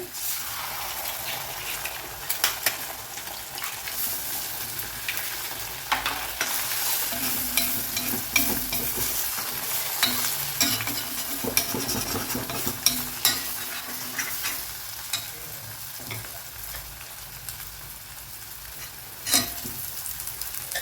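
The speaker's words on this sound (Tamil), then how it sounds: "ஒரு ரெண்டே ரெண்டு எக்கு உடச்சி ஊற்றிக்கிடுங்க" Stir-frying in a pan with carrots, beans and capsicum pushed to the side while two eggs are cracked in: steady close sizzle with scraping spatula strokes and a few sharp clinks, no talking.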